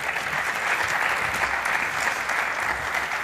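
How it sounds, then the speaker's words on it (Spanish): An audience applauds steadily at a conference panel event, a continuous dense clapping that neither rises nor falls. "Un aplauso para él."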